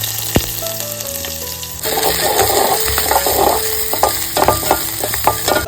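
Sliced onion with garlic and curry leaves sizzling in hot oil in a home kitchen, with a sharp tap at the start. The hiss grows louder partway through and carries scattered crackles and stirring scrapes, and no one speaks.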